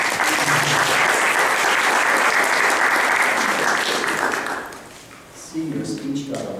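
Warm audience applause follows the introduction of a speaker at a presentation on neuropsychology and Lyme disease, sustained for several seconds before fading, then a voice begins speaking.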